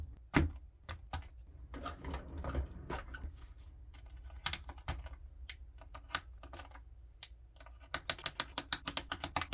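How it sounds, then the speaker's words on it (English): Typing on a mechanical keyboard fitted with DSA profile keycaps, sharp close key clicks in irregular bursts and pauses, finishing with a fast, even run of keystrokes; no voices. "I should really test this keyboard before switching completely"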